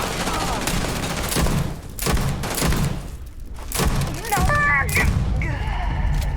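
Rapid pistol fire in the space game Starfield during a fight against pirates aboard a ship, a run of loud, sharp repeated shots in quick bursts, mixed with impacts, thuds and other combat noise.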